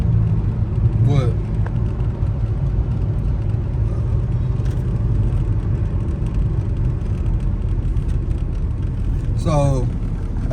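Steady road noise from a Dodge Challenger SXT with a V6, heard from inside while driving, a continuous low rumble and tyre hum holding level throughout, with faint voice-like sounds in the background.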